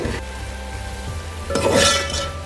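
A spoon stirs sweet zarda rice in a pot, wedding-style degi zarda, with soft scraping and a faint sizzle, the clatter of metal against the pot growing louder toward the end, close and alone.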